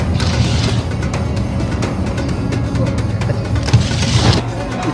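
A sleeper bus driving in Vietnam, heard from inside as a steady loud engine drone and road rumble with occasional rattles and bumps.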